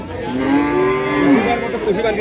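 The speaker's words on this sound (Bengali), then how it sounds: "হলস্টিয়ান গাভী বাছুর দুধ খাওয়ানো হচ্ছে" Holstein Friesian cattle at a village cattle market in Cumilla, with a drawn-out cow moo carrying clearly over a steady background of market crowd noise.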